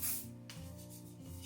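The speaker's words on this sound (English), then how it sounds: "I'm going to spray that section again" A short hiss of hairspray misted onto a section of hair during a neat bun styling, one soft close spray lasting about a second.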